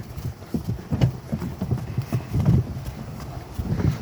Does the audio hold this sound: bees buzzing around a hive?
no